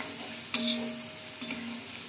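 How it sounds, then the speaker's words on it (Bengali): Pointed gourd (potol) being stirred and sautéed in a pan: a soft, steady sizzle broken by two distinct scraping stirs of the spatula, close and fairly quiet. "ভালো করে কষিয়ে নিচ্ছি।"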